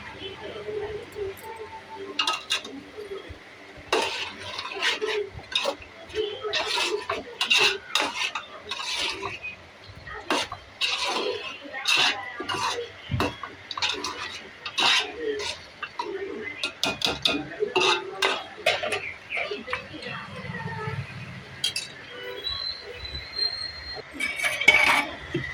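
A spoon stirs turmeric into mutton keema in a pan, giving repeated clinks and scrapes against the metal throughout, under frequent talk that carries on alongside the stirring.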